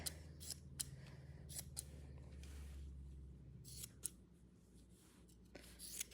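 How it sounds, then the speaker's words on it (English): Sharp scissors snip through a soft fleece blanket, cutting it in half in a run of quick, close crisp clips with brief pauses between strokes. "I'm just gonna cut the blanket right in half, just like this."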